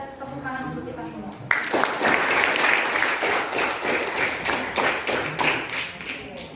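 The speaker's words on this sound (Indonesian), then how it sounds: "tepuk tangan untuk kita semua" Classroom applause from students after a biology lesson: a teacher's voice at first, then sudden loud group clapping that carries on steadily with some rhythmic claps and chatter mixed in.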